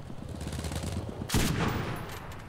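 Tank-mounted machine gun fires in the World War II shooter game Enlisted, a rapid rattle of shots over engine rumble with one louder blast midway.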